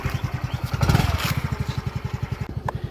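A Yamaha Rey ZR hybrid scooter engine runs on a test drive, a close, steady low putter of rapid regular pulses that swells briefly midway, with no talk.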